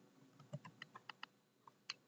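Quick bursts of typing on a computer keyboard while entering code in Unity, about a dozen close, crisp key clicks in an uneven rhythm, quiet and alone.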